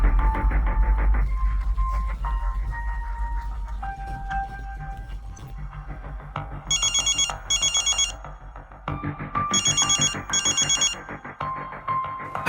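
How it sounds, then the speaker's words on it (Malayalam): A telephone rings during a Malayalam drama scene, with two bursts of bright electronic trilling over a steady backdrop of music and hum. "ഗൗതം പറഞ്ഞത് കേട്ട് അഭിനവ് ഗുപ്ത ഉടൻ തന്നെ രഘുവീറിനെ വിളിച്ചു."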